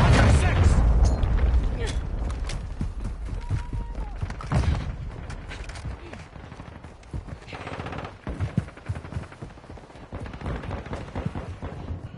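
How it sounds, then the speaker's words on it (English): Cruise missile strike in the video game Call of Duty MW2, a heavy booming blast up front followed by rolling rumble, scattered gunfire and radio-style voices over the top. "Friendly cruise missile approaching target."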